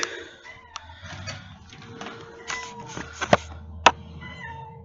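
Outdoor cats meowing, several short, sharp meows spaced irregularly over faint background noise, with one or two louder calls standing out near the end.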